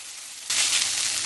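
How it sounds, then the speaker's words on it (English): Walnut taco meat with taco seasoning, soy sauce and black bean and corn salsa hits a hot pan and breaks into a sudden loud, bright sizzle that keeps going. "Transfer it over to my pan, heat it up."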